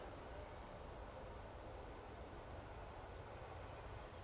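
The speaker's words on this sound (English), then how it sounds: "It's Ryanair Max off there." A Ryanair Boeing 737 Max airliner taking off at Manchester Airport, a steady, broad distant jet roar that stays even and constant throughout, with no talk over it.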